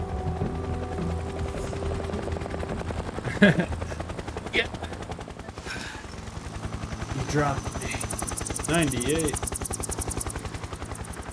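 A helicopter in Metal Gear Solid 3: Snake Eater thrums with a steady rotor pulse under game sound effects, a few sharp bursts and a voice talking over it.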